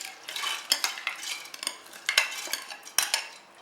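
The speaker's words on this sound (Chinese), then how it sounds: "将豆子连同水一同倒入砂锅中" Soaked beans and their water are tipped into a clay pot, producing bright clattering, splashing and scraping. The sounds are close, come in irregular bursts with sharp knocks against the pot, and no one speaks.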